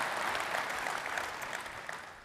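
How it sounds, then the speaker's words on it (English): A round of applause from a large audience at a 3DEXPERIENCE World 2024 general session, a fairly quiet, even wash of clapping heard from some distance for a couple of seconds. "Let's give Mike a round of applause, please."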